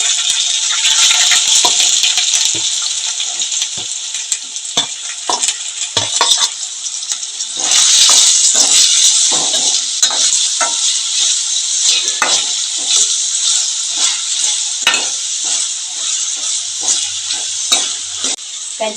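Onions and green chillies frying in a pan for a village-style ivy gourd curry, a steady bright sizzle with frequent scraping stirs and light clinks of the spoon against the pan, continuous and close.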